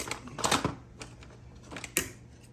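Scissors cutting through a plastic connector part on a pool vacuum, a few sharp snipping clicks close by, spaced unevenly over a quiet background.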